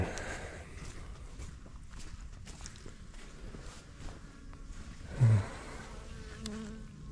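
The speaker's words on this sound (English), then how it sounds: "My bees were out foraging, literally bringing in a little bit of pollen and nectar" Honeybees buzzing while foraging in an almond orchard during spray season, a steady insect drone heard nearby and fairly close, with a few soft footstep-like thumps and a brief louder bump midway.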